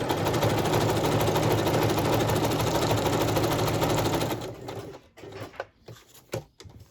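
A sewing machine stitches quilt pieces at a fast, steady buzzing rhythm for about four seconds, then stops, leaving a few soft handling clicks and rustles.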